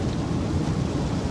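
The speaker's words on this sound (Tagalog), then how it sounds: "Sorry naman kasi umuulan dito." Steady rain drums on a car while driving through a rainy day in Florida, a dense continuous low rumble and patter throughout the short span with no talk over it.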